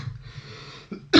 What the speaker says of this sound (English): just got a bit of a cough there